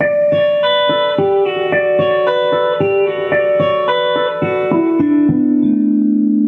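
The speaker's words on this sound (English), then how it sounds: "So just go down the chord, each string at a time, with your harp harmonics technique." Bell-like guitar harmonics ring out one after another in a descending pattern, each note chiming clearly and overlapping the last, with no talking.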